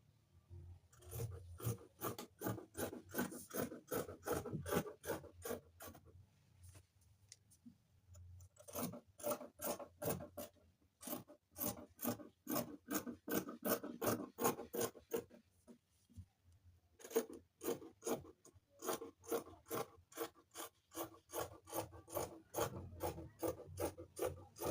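Scissors cut a fabric skirt pattern for a side-elastic pencil skirt, making close, rhythmic crunching snips in three long runs separated by brief pauses, with no talking.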